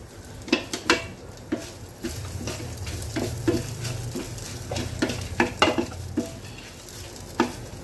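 Peppercorns crackle and pop in hot oil with sharp irregular snaps over a low sizzle, plus occasional utensil clinks; no talking.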